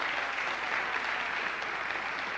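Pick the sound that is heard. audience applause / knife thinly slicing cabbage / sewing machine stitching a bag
audience applause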